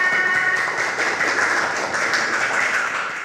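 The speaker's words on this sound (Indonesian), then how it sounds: "Beri tepuk tangan." Classroom audience applauding after a group presentation during a lesson, a steady wash of clapping filling the room at an even level throughout.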